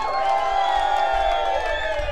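Live crowd cheering and whooping for the guitarists at a Metalworks night at The Monarch in Camden, a steady loud wash of voices with a held high whoop running through it and scattered clapping underneath.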